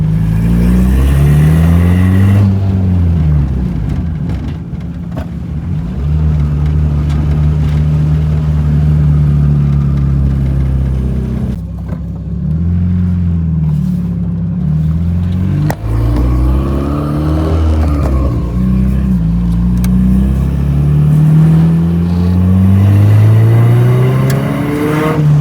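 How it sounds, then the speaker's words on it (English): A car driven on the road after its whole cooling system was replaced, the engine droning and revving up and down in steady waves, loud and close throughout with no talking. "We are driving."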